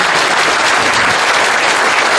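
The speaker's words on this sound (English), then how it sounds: "You can applaud now for now." Brief burst of audience applause at a DevOpsDays conference talk, with steady, fairly loud clapping from a room of attendees.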